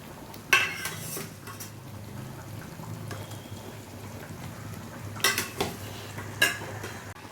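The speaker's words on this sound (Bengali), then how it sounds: "এবার দিয়ে দিচ্ছি ভেজে রাখা ডিমগুলো" Fried eggs go into an egg korma curry in a pan, bringing a few sharp metal clinks of a spoon against the pan over a low steady sizzle, with stirring in between and no voices.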